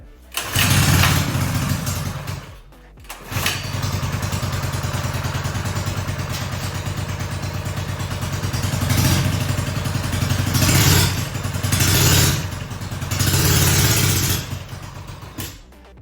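Small engine on a mini bike cranks, catches and keeps running with a loud, steady throbbing idle, briefly cutting out near the start and surging a few times before fading slightly at the end.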